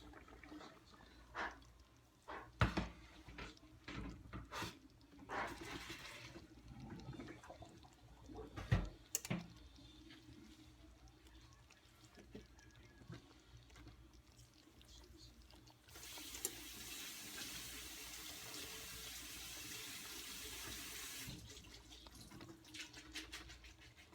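Cooked bow tie pasta being drained and rinsed in a kitchen sink, with faint clatters and knocks of a pot, then a steady rush of running tap water toward the end, quiet overall and without talk.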